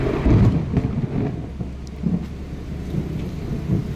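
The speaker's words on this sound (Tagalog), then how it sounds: "Taas pa ng kulog." Thunder from a thunderstorm rolls in low and distant over steady rain, a few rumbling swells across a few seconds with no voices.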